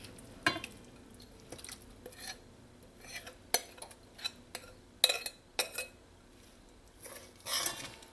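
A spoon stirring leftover fish seasonings into a Trinidad fish curry in a pot, with irregular clinks and scrapes of metal against the pot spread across the clip, close and moderately loud with no talking.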